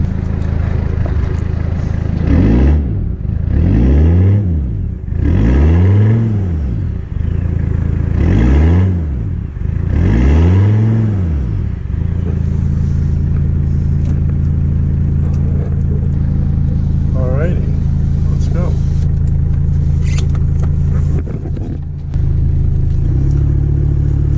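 A slammed Mercedes-Benz W123 diesel car drives with a loud, close, clattering diesel engine, revving up and down in several swells before settling into a steady low drone.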